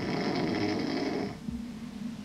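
Loud, close snoring from people sleeping in a firehouse, one long raspy breath that fades into a quieter rumbling snore.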